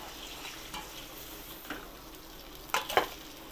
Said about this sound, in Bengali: বাদ বাকি মাছগুলো একইভাবে ভেজে নেব।